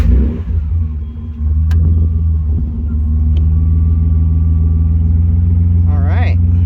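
Nissan S12 engine idling steadily after a fuel pump upgrade, a loud, even close-up hum with a brief rising whine near the end.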